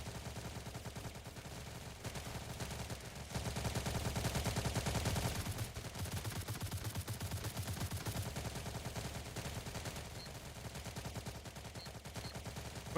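Sustained automatic gunfire in an online shooter video game, a continuous rapid rattle of machine-gun rounds that swells louder midway and then carries on steadily, with no talk.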